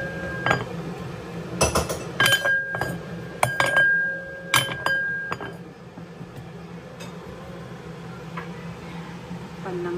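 A lid goes onto a cooking pot of fish soup with okra and kulitis. Several sharp, ringing clinks come in a quick cluster, then trail off into a quiet kitchen hum, with a voice faintly in the background.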